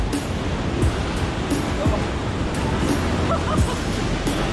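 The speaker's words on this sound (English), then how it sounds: "Wave coming in, get back." Ocean surf rolling in on a rocky fishing shore, a loud, steady roar of breaking water close by, with faint voices of people beneath the noise.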